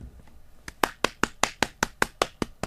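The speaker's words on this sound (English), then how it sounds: "I just gave myself applause." A radio DJ claps for himself in a studio: about ten crisp, evenly spaced handclaps in a steady rhythm, close and alone with no talking.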